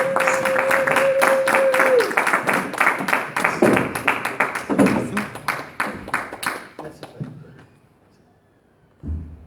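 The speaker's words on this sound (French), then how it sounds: "applaudissez très fort" An audience applauds at an event with a French-speaking host, a run of sharp claps over a sustained tone that thins out and fades to near silence, then a brief thump at the end.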